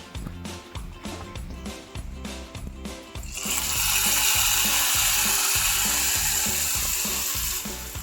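Hot tadka tempering poured into Uttar Kannada-style dal fry bursts into a loud, hissing sizzle that holds steady for several seconds, after a short run of rhythmic tapping and clicking in the pan.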